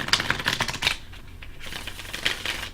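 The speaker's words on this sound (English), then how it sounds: "We'll give them a couple more shuffles before we get started." Tarot cards are shuffled by hand in quick, crisp riffling bursts: a busy flurry of papery clicks, a brief lull, then another burst.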